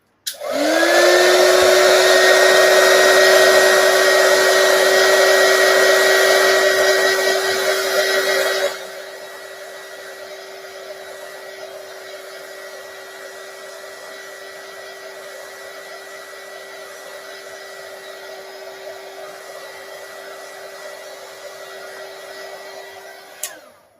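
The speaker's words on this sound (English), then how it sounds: "So I'm just going to take these and quickly heat set them." A handheld heat tool blows a loud, steady whirring hum while heat-setting blue craft inks, then drops to a quieter sustained drone before clicking off at the end.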